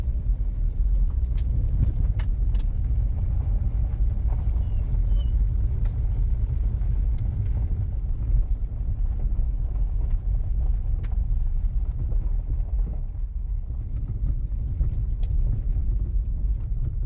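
A car drives slowly along a rough Forest Service road in Whitley County, Kentucky, as a continuous low engine and tire rumble from inside the vehicle with occasional light knocks and rattles.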